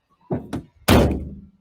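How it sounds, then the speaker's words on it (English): Car doors shut one after another: two lighter thunks close together, then a heavy, loud slam with a short resonant tail, close by in a quiet space. "Let me shut these doors so you guys can take a look at it."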